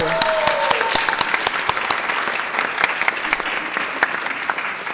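Audience at a school board of education meeting clapping for a record fundraising total; dense, steady applause from a roomful of people fills the whole stretch, with no talking over it.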